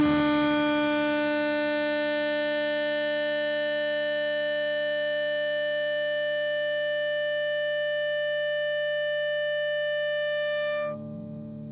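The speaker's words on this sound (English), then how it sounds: "So it produces feedback that you essentially only can get if you have your amps cranked really, really high." Freqout artificial sustainer pedal on a guitar pedalboard produces a loud, steady feedback tone with rich harmonics, sustaining evenly for about eleven seconds before cutting off abruptly.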